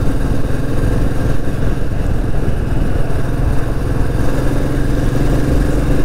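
Royal Enfield Meteor 350 motorcycle ridden at night through traffic in India, a steady, loud engine drone with continuous road and wind rumble throughout, no voices.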